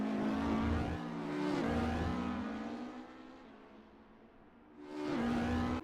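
Race cars racing at the Nürburgring, engines revving in loud rising and falling passes, swelling near, fading, then roaring back in again.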